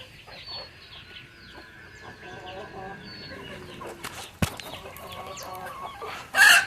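Bhimavaram breed roosters on a farm cluck in repeated short, nasal bursts at close range, with a sharp knock midway and a louder squawk at the end.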